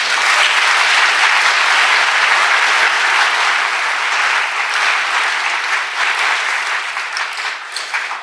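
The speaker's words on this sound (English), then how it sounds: "If we can just give them a round of applause." A large audience at a civil rights legacy event applauds in a dense, sustained burst that stays loud throughout and tapers slightly toward the end.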